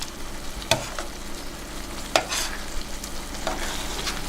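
Tomato sauce with meatballs simmers and sizzles softly in a pan, broken by a few sharp scraping stirs of a utensil against the pan.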